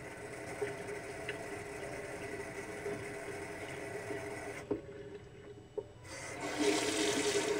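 Running tap water in a sink rinses a navel piercing: a soft, steady hiss of flowing water, fairly faint, briefly interrupted by a pause with a couple of small knocks, then resuming louder.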